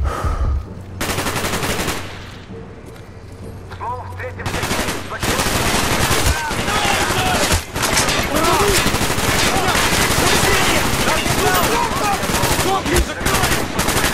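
Sustained automatic gunfire from the Vorkuta mission of Call of Duty: Black Ops, dense bursts and shots in a loud, continuous firefight, with shouted voices mixed in.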